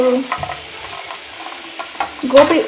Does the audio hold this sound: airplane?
no